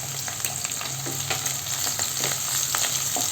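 Green chili and the lower white parts of spring onion frying in hot oil for chilli chicken, giving a steady close sizzle with light stirring clicks throughout.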